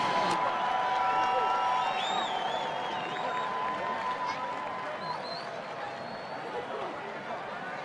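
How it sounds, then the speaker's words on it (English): Crowd applause and cheering for Hall of Fame inductees at a John Muir versus Pasadena high school football game. Clapping and crowd noise come from a distance, stronger at first and then fading. Whistles and shouts sound through it, along with some background chatter. "Give another round of applause to the 2016 Hall of Fame inductees."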